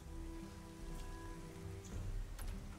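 Steady rain falling in the Gothic 1 Remake video game, a constant broadband hiss with faint drops, alone and without talk for the whole stretch.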